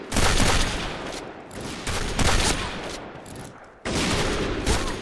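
Gunfire in the online shooter Point Blank, with sniper rifles in play: dense loud bursts of rapid shots in long stretches, broken by brief gaps, harsh and close.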